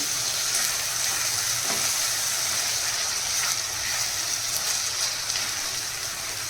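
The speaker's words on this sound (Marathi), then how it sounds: "मस्त आपला मसाला इथे छान फ्राय झालेला आहे एक मिनटं आपण हे छान फ्राय करून घेणार आहोत" Masala with onion and tomato fries in a pan for dhaba-style chicken, making a steady, close, hissing sizzle that runs continuously with faint stirring and no talk.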